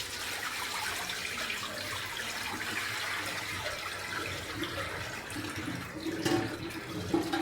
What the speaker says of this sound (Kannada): ಸೊಪ್ಪು ತೊಳೆದ ನೀರನ್ನ ಇದರಲ್ಲಿ ಸೋಸ್ತೀನಿ ನೋಡಿ